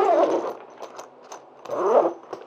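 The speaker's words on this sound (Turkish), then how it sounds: "Bu arada fermuar tek fermuar değil, çift taraflı arkadaşlar." Two quick pulls of a double-sided zipper on a DSLR camera backpack, close by, separated by a short pause with faint handling noises between them.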